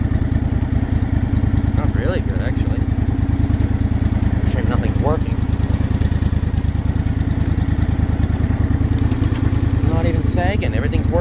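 An old Craftsman lawn tractor engine chugs steadily throughout at a close, even putter, with a few brief squeaks and clinks over the top and voices faintly underneath.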